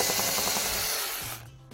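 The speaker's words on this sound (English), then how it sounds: "Now we have to drill some holes in the wall" A power drill bores holes into a wall to fit a Nest Learning Thermostat mount, a steady close whirring grind running without talk before cutting out near the end.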